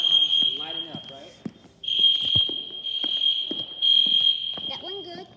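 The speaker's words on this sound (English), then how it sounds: "We're making sure that all the fire alarms are lighting up, right?" A mall fire alarm under testing gives loud, steady high-pitched tones in repeated long blasts, with people talking in between and over it.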